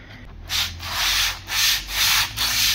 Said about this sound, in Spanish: podemos utilizar nuestras piezas con una lija.